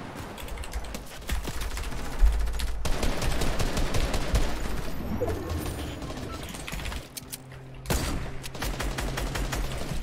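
Rapid gunfire from a first-person shooter game, with continuous bursts of automatic shots and sharp single cracks that fill the whole stretch loudly, a dense close barrage with short lulls.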